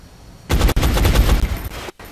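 Heavy soldier's weapon firing in XCOM, a sudden loud sustained burst of automatic gunfire with rapid repeated shots, briefly cut, then trailing off into quiet.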